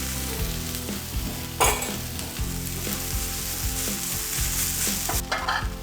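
Grated coconut and tomato sautéed in a pan for a tuna thoran, giving a steady sizzle with repeated scraping stir strokes and a few louder clatters, close and without voices.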